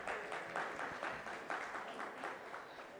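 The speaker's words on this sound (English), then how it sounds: "A round of applause for Mr. Srivastav, please." Audience at a bioenergy summit applauds panelists with steady, moderately faint clapping throughout, no talk over it.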